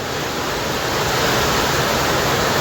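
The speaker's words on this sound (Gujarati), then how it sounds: "વરસાદ ને આવતા પવન ને વરસાદ બધો" Dense, roaring downpour of heavy rain mixed with gusting wind, a loud continuous wash of noise with no pauses.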